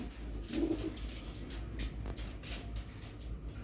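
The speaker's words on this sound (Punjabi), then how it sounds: "ਉਹ ਕਬੂਤਰ ਹੈ ਇਹ ਕਬੂਤਰੀ ਆ" Domestic pigeons kept by a fancier give a soft, low coo close by, one brief burble near the start over a quiet room hum.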